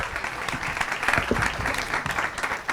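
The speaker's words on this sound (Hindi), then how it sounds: "तालियां हो जाए आदित्य गुरमुल के लिए" An audience claps for a contestant after a phone durability-test promotion at a comedy panel show; a short burst of lively, close applause with some uneven, louder claps mixed in.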